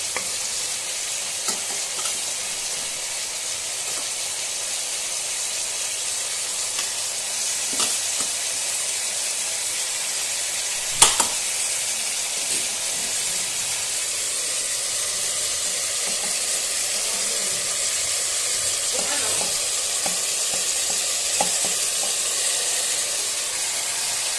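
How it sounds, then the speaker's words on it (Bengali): Marinated chicken sautéing in a pan, a steady hissing sizzle throughout with occasional stirring scrapes and one sharp clatter midway, close and continuous. "তো এবার দিয়ে দেবো ম্যারিনেট করা মাংসটা, আবারও ভালো করে কষিয়ে নেব।"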